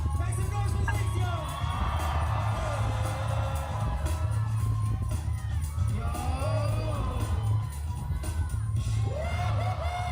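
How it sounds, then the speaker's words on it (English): A crowd at a Red Bull BC One breakdance cypher in Seattle cheers and whoops for b-boy Lex, with loud, dense yells and shouts over a thumping low beat that keeps going the whole time. "Crowd. Make some noise for Lex, yo."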